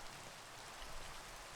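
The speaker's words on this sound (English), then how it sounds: "what a joy, it's raining" Steady rain falling in the Minecraft video game, a dense, even hiss of drops that continues without a break, with no voices over it.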